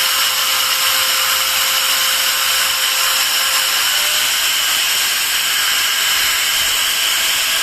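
A Total TG109125565 variable-speed angle grinder runs steadily at speed setting 5, drawing about 271 watts, giving a loud, constant high-pitched whine with a faint tone shift midway and no talk.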